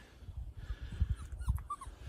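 A small, stubborn dog whimpers and yips in short bursts outdoors, its soft whines recurring near the microphone over a low rumbling background.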